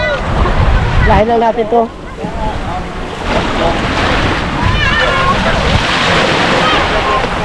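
Sea waves wash and churn steadily beside a small boat on open water, with wind buffeting the microphone and several people talking and calling out over the surf throughout.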